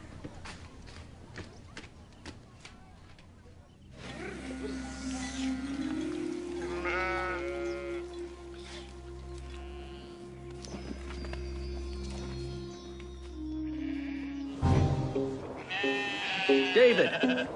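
Sheep bleat repeatedly nearby over a steady low drone, with clopping and other farm-animal sounds mixed in, and a voice speaking near the end.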